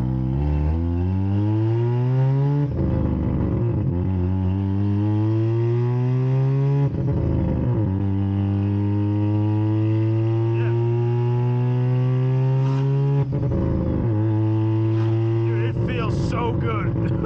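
A car with a partly removed exhaust drones steadily while driving, its engine pitch rising through several gears with brief dips at each shift, loud and close throughout.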